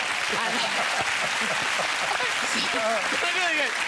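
Talk show studio audience applauding and laughing, a dense steady wash of clapping for the whole stretch with a few voices rising over it.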